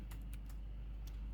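A few quick, faint clicks of typing on a computer keyboard, about four light keystrokes in an uneven rhythm over a low background hum.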